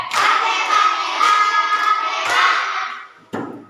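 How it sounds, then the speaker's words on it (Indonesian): A fifth-grade class in a classroom does the rhythmic "tepuk hebat" clap, a short patterned burst of hand claps with several sharp accents and a final loud clap near the end. "Kasih tepuk hebat untuk semua kelas 5"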